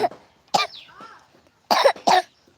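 A child coughs close by in four sharp, separate bursts, two early and two in quick succession later, with short quiet pauses between.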